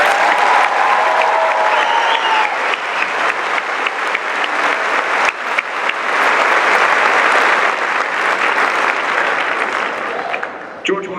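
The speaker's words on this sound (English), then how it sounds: "let's give them a round of applause" Loud, continuous applause from a large audience at a high school graduation ceremony, welcoming the graduating class with a thick wash of clapping that holds steady for about eleven seconds before tapering off.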